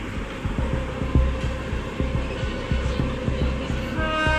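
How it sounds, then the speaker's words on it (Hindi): A train running on a parallel track beside a moving train near Sawai Madhopur, a steady loud rumble with rhythmic wheel clacks over the rail joints throughout, with a brief horn-like tone near the end. "यहाँ पर कोई ट्रेन तो है जो पैरेलल हम लोगों के साथ में चल रही है"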